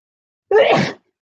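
A single short, sharp sneeze bursts out close by, preceded and followed by silence.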